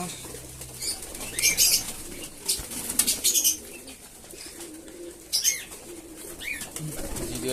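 Pigeons, including a fancy flying breed, are kept in a loft and heard close by with bursts of wing flapping and occasional soft coos over a quiet, rustling background.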